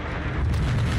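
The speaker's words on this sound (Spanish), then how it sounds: "¿Alguien me está disparando de este lado?" A brief, heavy boom from Call of Duty: Modern Warfare II, a single deep gunshot or blast with rumbling low end that sustains through the short moment, no voices.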